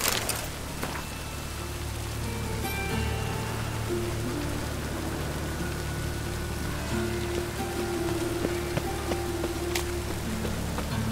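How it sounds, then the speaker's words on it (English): Steady rain falls in The Witcher 3: Wild Hunt, a continuous wash of patter across the surface with a low rumbling bed underneath, holding an even, moderate level with no voices throughout. "Rain, I like rain."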